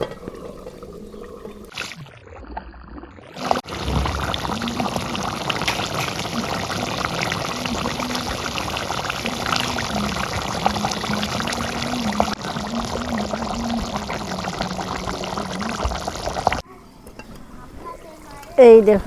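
Water poured steadily into a pan of browned broiler chicken curry, a continuous splashing rush lasting about thirteen seconds, preceded and followed by brief talk.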